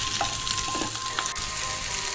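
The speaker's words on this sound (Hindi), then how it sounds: "अब मैं इसे अच्छे से मिक्स करूंगी और अच्छे से हमें इसे फ्राई करना है" Potatoes frying over high flame in hot oil while being mixed, a dense, loud, continuous sizzle with faint scraping of stirring, short and without voices.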